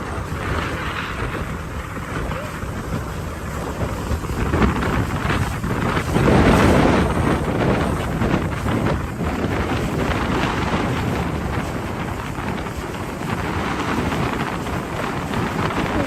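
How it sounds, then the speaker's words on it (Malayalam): Wind buffets a small boat on a trip off Hahei beach while water splashes against the hull, a steady, loud roar of gusts and spray lasting throughout, with no talking. "കാറ്റുണ്ട്, വെള്ളം തെറിച്ച് പോവുകയാണ്"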